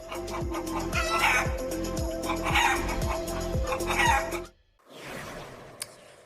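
Backyard chickens cluck in a busy, repeating chorus with a steady low pulsing drone beneath, fairly loud and close, then cut abruptly to quieter rustling near the end.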